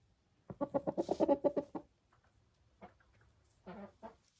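A rooster gives a rapid run of low clucking calls close by, calling hens to the nest to lay, followed after a pause by a few softer clucks.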